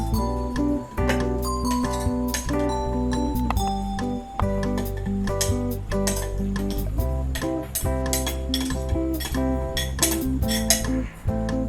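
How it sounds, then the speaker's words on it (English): Finely chopped mango pieces go into a kitchen mixing jar with repeated small clinks and taps of a spoon against the jar, over steady background music. "I'm gonna add this mango pieces, which are chopped into fine pieces."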